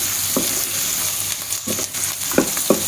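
Lentils and chopped onion sauté in a pan with a steady sizzle, while a few short stirring scrapes of a spatula break through at irregular moments, close by and with no talking.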